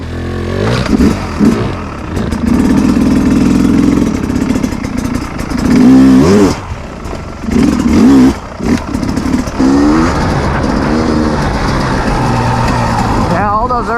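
A 2021 KTM 250 XC W two-stroke dirt bike is ridden, its engine droning and revving in rising and falling bursts, loud and close, with a voice talking over parts of it.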